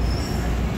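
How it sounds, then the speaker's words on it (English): A video game train pulls into a station, loud and close. Its rumble and steady wheel noise run continuously under a high, thin squeal. "Look, guys, our train is arriving."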